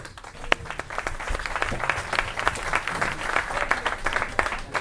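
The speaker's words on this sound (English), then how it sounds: "So, without further ado, big round of applause for Toshi." Audience applause greets a presenter at a talk. It is a fairly loud, steady patter of many hands clapping with distinct individual claps standing out, and it continues throughout with a few faint voices mixed in.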